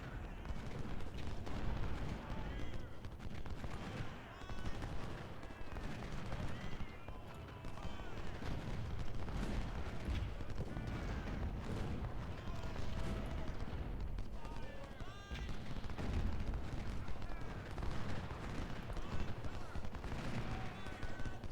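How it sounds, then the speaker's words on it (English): Artillery and small-arms fire rumble without pause through an Ultimate General battle at Seven Pines, dense overlapping booms and crackle with a person talking over much of it. "the artillery unit's just starting to cause havoc in the front lines"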